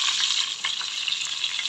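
Liver frying in rendered sausage fat in a pan gives a steady, close sizzle with scattered small crackles and pops throughout.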